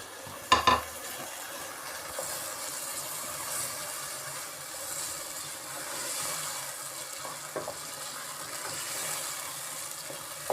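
Spices, tomato and minced meat fry in a pan, a quiet soft sizzle with occasional scraping and stirring clatter, one sharper knock near the start, no voices.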